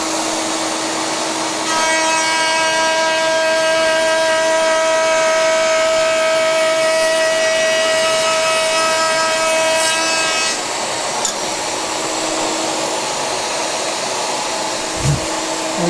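A wood router fitted with a larger-diameter cutter runs as a steady, loud, high motor whine, cutting a groove for a desk tidy. It starts about two seconds in, holds evenly, then cuts off and winds down, with no talking.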